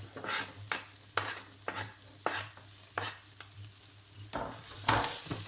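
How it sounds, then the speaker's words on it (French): Onions and garlic sizzle steadily in a hot pan while a utensil scrapes and stirs in regular strokes, close and fairly quiet. "Voilà, j'ai fait revenir mes oignons. Maintenant je vais ajouter mon ail."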